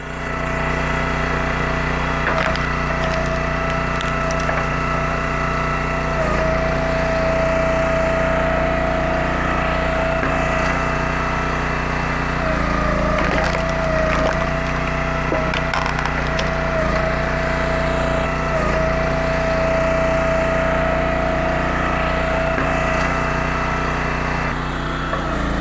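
An entry-level log splitter's small engine drives its hydraulic pump, running steady and loud throughout with a constant drone, occasional knocks and a whining tone.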